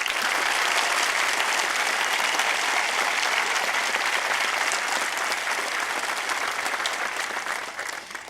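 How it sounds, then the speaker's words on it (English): Sustained applause from an audience, steady and dense throughout, tapering slightly at the end with no talking over it. "I think we should all give them an applause."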